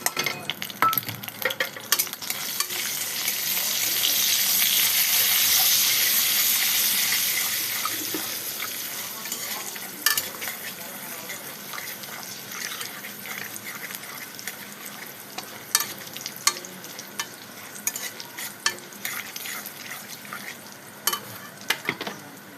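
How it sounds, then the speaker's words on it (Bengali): Fennel, mustard, cumin and coriander seeds fry in hot oil, a soft hiss that swells over the first several seconds then settles into faint sizzling with scattered sharp crackles and pops, close by and with no voices. "এই মশলাটা আমি একসঙ্গে দিয়ে দিচ্ছি, মৌরি, সরিষা, জিরা আর ধনিয়া"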